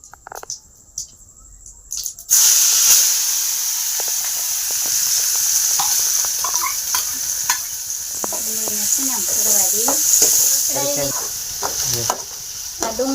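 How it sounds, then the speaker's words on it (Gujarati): Onions tipped into hot oil tempered with cumin erupt into a loud, steady close-up sizzle after a quiet start, with light stirring scrapes running through the hiss. "ડુંગળી નાખી દેવી"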